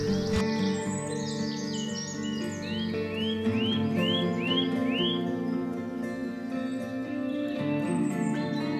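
Birds chirp and sing in a forest, a run of repeated rising whistled notes over a steady bed of continuous calls, moderately near with no talking.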